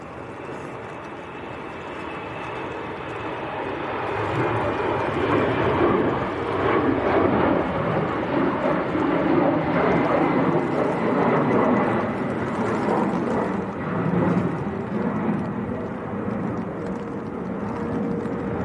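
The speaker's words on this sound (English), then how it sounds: "Portugal on the roll, an Embraer E190 to Lisbon." An Embraer E190 airliner rolls down the runway for takeoff toward Lisbon, its jet engines building into a broad, steady roar that swells and stays loud across the whole stretch, heard from a distance outdoors.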